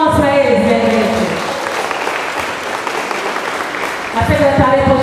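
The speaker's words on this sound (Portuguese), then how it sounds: "Palmas para eles, minha gente." An audience at a karate event applauds steadily for several seconds, a dense wash of clapping, with a voice speaking over it at the start and again at the end.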